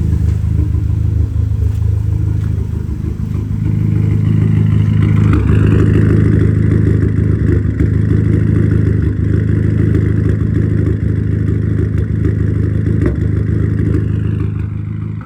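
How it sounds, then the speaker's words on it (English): Engine of an Audi A3 8P with a persistent misfire, running loud and close with a steady drone, a rev rising and holding around the middle, and faint clattering throughout. "I just cannot figure out what on earth this misfire is."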